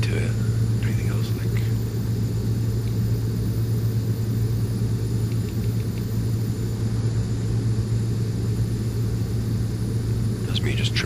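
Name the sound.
Beechcraft B200 King Air engines at full throttle in flight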